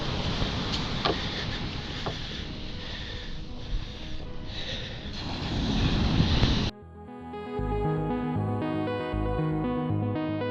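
Ocean waves wash and break on a snowy winter beach in Maine, a steady roar mixed with wind buffeting the microphone, cut off partway by music.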